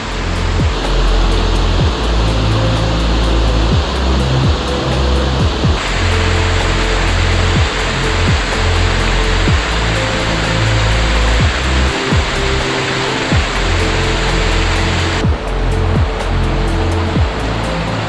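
Mountain torrents and waterfalls in the Gores de Federa gorge in the Dolomites near Cortina d'Ampezzo make a loud, steady roar of rushing water that fills the whole stretch without any voices.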